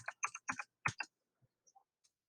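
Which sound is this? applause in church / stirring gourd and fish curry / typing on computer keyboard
typing on computer keyboard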